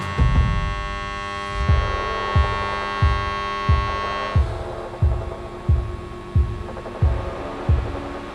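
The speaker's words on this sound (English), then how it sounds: "Hear the difference with QuietPulse Technology." DC TIG welding with QuietPulse pulse technology gives a steady electrical hum with a soft, regular throbbing pulse about twice per second, close and continuous, with no voice.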